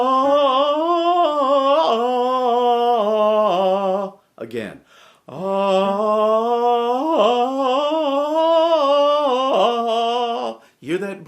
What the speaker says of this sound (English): when you have a register break, and the break would sound something like this.